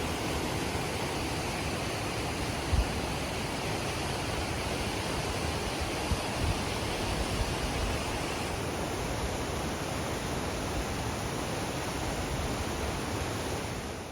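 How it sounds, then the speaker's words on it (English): Steady, loud broadband rush of a creek pouring over rocks at a trail crossing on the Pacific Crest Trail, continuous and close, with no voices. "It was so loud with the water."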